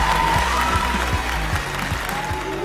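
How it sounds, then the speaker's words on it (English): Audience applause with some cheering follows the final of a school debate competition, a steady wash of clapping over a rhythmic low music beat, with a voice briefly heard. "Congratulations and a huge round of applause."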